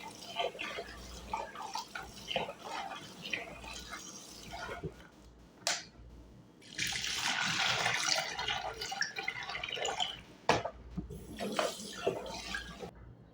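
Meat washed several times in water: splashing and sloshing with running water, coming in uneven bursts and a longer stretch of rinsing, close by and with almost no talk.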